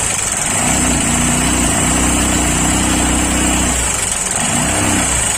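A Honda Shine motorcycle with an engine noise problem runs loud and close, its buzzing drone rising as the throttle opens, dipping briefly, then revving again.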